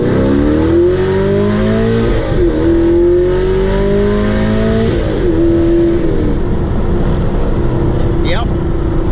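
A loud engine revs repeatedly, pitch climbing and dropping in sweeping waves, close and continuous with a throaty roar.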